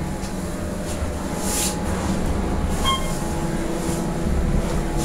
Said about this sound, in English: Average standard Otis hydraulic elevator.